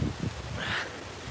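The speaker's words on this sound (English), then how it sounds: "It's windy as hell, I'll tell you that." Wind gusting outdoors at night by the water, a broad steady rush with a louder swell midway, heard alone without speech.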